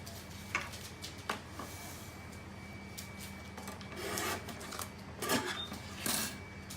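Trimming a page for a tote folio album: quiet rubbing and scraping strokes with a few sharp cutting clicks, close and alone over a faint steady background hum.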